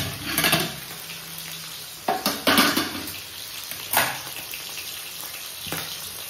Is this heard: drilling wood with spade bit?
no